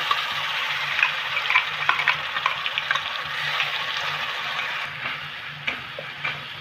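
Onion and garlic paste fries in hot oil for a Bengali spinach dish, giving a loud, continuous close sizzle with scattered crackles and pops throughout.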